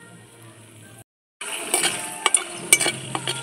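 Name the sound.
bay leaf and whole spices sizzling in fish oil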